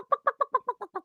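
A person vocally imitates a chicken, giving about eight rapid, evenly spaced clucks close to the mic with no other sound.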